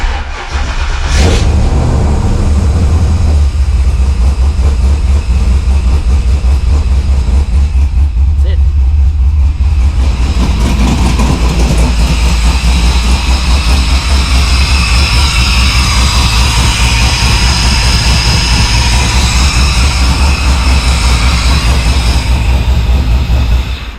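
Holden VL Calais fitted with a Harrop 2300 supercharger drives off, its engine loud and close as it revs and pulls with a heavy low rumble and rising whine that continue steadily.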